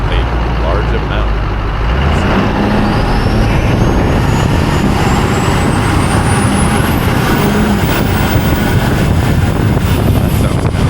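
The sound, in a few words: GMC truck driving noise with wind on camera microphone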